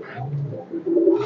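Pigeons in a loft in Bangladesh give a close, clear run of low, rolling coos, with no talk.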